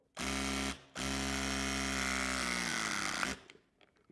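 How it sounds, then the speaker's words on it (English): Klauke EKM60ID battery indent crimping tool pressing a 50mm cable lug: a loud, steady electric motor whine that runs briefly, pauses a moment, then drives continuously for about two and a half seconds before stopping, with no talk. "Now, I'm going to show you a 50mm cable lug being crimped with the indent tool."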